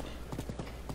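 Horse hooves clip-clop in a quick, even rhythm in The Legend of Zelda: Breath of the Wild, fairly soft and close, with no voices.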